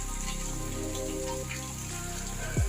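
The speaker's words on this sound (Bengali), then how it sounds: "এখন বৃষ্টি হচ্ছে আকাশ দেখেছো একদম পুরো বর্ষাকাল হয়ে গেছে" Continuous rain falling, a dense even hiss of drops with a low rumble underneath and no voices.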